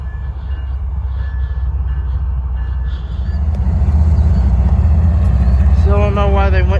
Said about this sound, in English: Got his bell ringing.